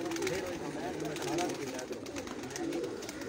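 Pigeons kept on a rooftop coo in soft, repeated throaty phrases close by, with someone talking over them throughout.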